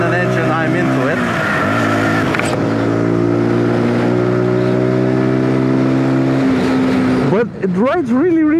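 A Zontes G125 (ZT125 G1) 125cc motorcycle engine while riding, a loud steady droning hum that holds even, wavers briefly, then rises and falls in pitch near the end.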